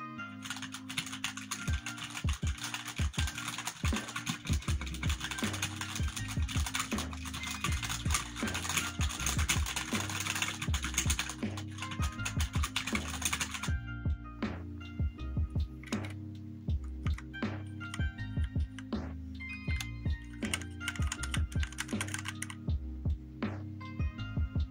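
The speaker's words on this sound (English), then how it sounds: "And then here's the Belle Delphine keyboard." Fingers type steadily on the Belle Delphine computer keyboard, a dense, close run of clicky keystrokes that grows sparser and quieter partway through.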